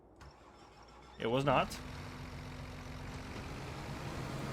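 A brief spoken remark, then a low, steady engine hum that drones on evenly, like a video game vehicle idling or driving.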